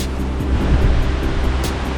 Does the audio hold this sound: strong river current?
yes